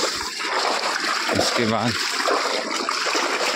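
A village river flows steadily where a tractor is being washed, giving a continuous wash of running water with small splashes, while someone speaks briefly over it.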